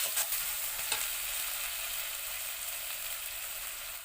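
Onion paste hits hot oil in a pan with fried onions and green chilies, giving a steady, close sizzle and crackle with a couple of stirring scrapes near the start, with no voices.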